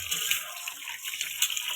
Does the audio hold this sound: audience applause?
no